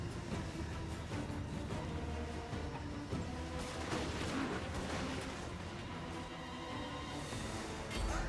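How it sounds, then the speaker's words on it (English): Dwarf Thunderers fire their guns in Total War: Warhammer amid a dense, continuous battle din of cracks, booms and clashing, steady and loud throughout. "Thunderers will join in as well there with their guns."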